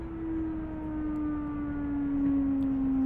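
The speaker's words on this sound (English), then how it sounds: "Turn the sirens on." A vehicle siren from a video game wails as one long sustained tone that slowly sinks in pitch, steady and fairly loud, with no voices over it.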